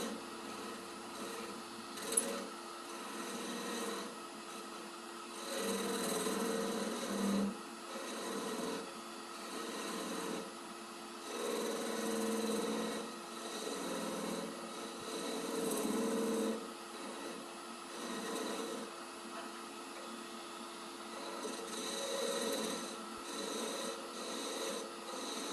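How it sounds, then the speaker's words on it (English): A skew chisel rides against spinning wood on a lathe, scoring the parted end of a turned hair stick or wand, giving a faint, steady rasping scrape that carries on for the whole stretch with no speech. "here I'm just using the skew to mark the parted end off"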